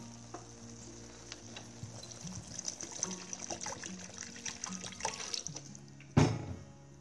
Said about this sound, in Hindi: अब देखिए इसमें मैं पानी ऐड करूंगी